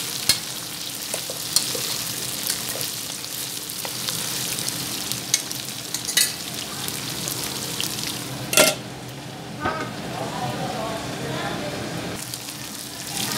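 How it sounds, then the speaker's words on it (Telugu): Mutton with masala frying in a pan, a steady sizzle under occasional stirring scrapes and a few sharp clinks of a utensil against the pot. "మంచిగా ఫ్రై అయిందండి మటన్."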